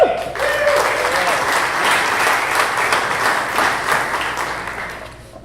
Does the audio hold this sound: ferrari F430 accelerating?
no